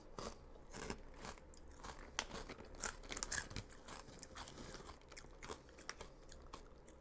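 Crispy fat-free pork rinds crunch and crackle close up with repeated bites and chewing, sharp brittle snaps spread irregularly across the stretch with no talking.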